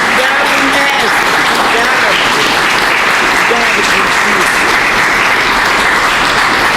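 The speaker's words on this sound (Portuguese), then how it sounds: "mais uma vez, palmas para Jesus Cristo." A congregation at a Christmas gospel gathering bursts into loud, sustained applause, dense and continuous throughout with faint voices mixed in.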